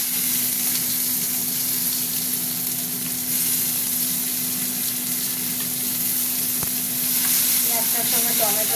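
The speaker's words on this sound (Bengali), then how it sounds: "পেঁয়াজটা একটু ভাজা ভাজা হোক, হতে থাক।" Onions fry in hot oil with cumin seeds and dried red chillies, giving a loud, continuous crackling sizzle for about nine seconds. A low steady hum runs underneath, with a faint clink near the end.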